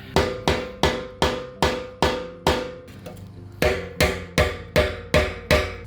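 A hammer strikes the rusted fuel pump lock ring on the rear tank of an OBS Ford F-150, about a dozen loud, ringing metallic blows in a steady rhythm with a brief pause midway.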